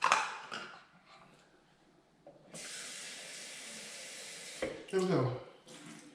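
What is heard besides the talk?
water being poured for wine making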